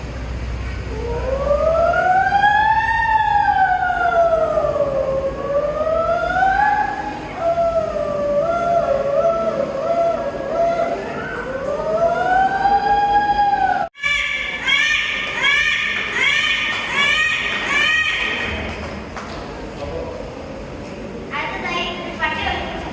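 A voice imitates an ambulance siren, a loud close wailing tone sweeping up and down in long arcs, then switching to a faster warbling pattern after a brief cut, with no other talk.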